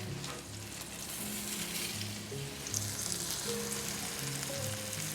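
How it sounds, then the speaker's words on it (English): Veggie burgers frying in foaming butter and olive oil in a pan make a continuous, even sizzle close by, with a low tonal hum underneath. "Once the butter foam starts to subside, I add the burgers. And I cook them for just 5 minutes on each side."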